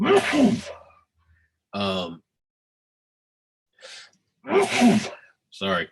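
A single sharp human sneeze bursts out loudly at the start, followed by brief spoken apologies and short voice fragments separated by silence.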